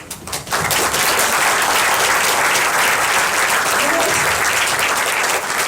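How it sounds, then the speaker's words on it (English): An audience at a 2019 colloquium speech gives a standing ovation, loud sustained clapping from a large crowd that swells in after a brief start and carries on to the end, with voices faintly mixed in. "just stand up and clap your hands, put an applause for yourself"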